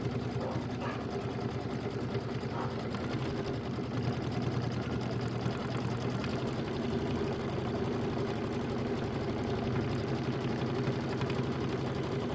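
An embroidery machine hums steadily and rhythmically throughout while stitching a design on a 22-inch Kimberbell Thanksgiving pillow, a continuous mechanical drone with no talk over it.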